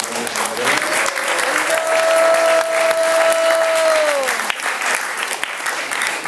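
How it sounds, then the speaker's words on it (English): Enthusiastic applause fills a youth program gathering, loud and sustained, with a cheer or whistle rising over the clapping partway through before the sound eases slightly. "So let's give another enthusiastic round of applause to all these men."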